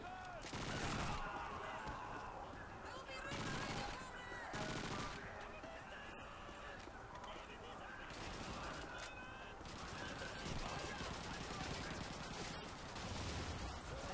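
Gunfire in the video game Call of Duty 2, with dense bursts of rifle and machine-gun fire rattling over a constant battle din, heard quietly in the background.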